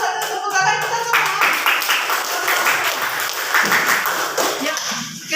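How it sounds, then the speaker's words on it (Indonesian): A classroom of students applauds after a group presentation, with loud, slightly uneven clapping of many hands, some taps and thuds, and voices mixed in. "Ayo kelompok satu tepuk tangan kita semua."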